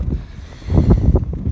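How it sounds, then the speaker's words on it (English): Strong wind buffets the microphone on open Dartmoor moorland near Black Tor on a wet, misty morning, a steady low roar that swells into heavier gusts in the second half, with no voices. "it's very windy, very wet."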